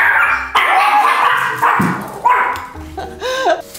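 A young dog that is not yet much of a guard dog barks and yips loudly and close by in several short bursts, with whimpering tones between them.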